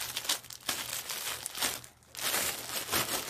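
A vacuum-sealed plastic yarn package crinkles and tears in bursts, close and fairly quiet, with a brief lull in the middle before the rustling resumes.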